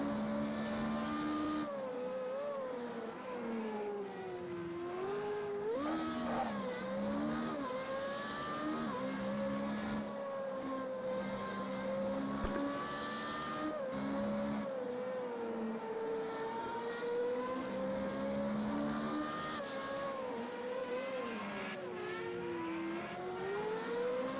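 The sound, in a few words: racing car engine and tyres in a video game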